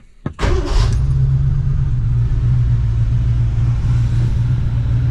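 A V8 hot rod highboy engine with a new muffler cranks briefly on a chilly morning and catches, then settles into a steady, loud, deep idle rumble close by.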